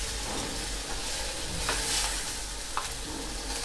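Sprouted green gram for sundal is stirred in a hot pan, giving continuous scraping and rustling strokes over a constant soft sizzle, close and fairly loud, with no talking.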